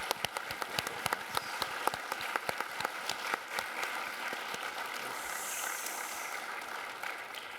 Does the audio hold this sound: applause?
yes